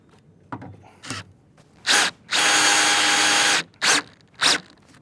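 A cordless power drill drives 4-inch framing screws into wood while building a chicken coop: a few short whirring bursts around one long continuous run, loud and close, with no talking.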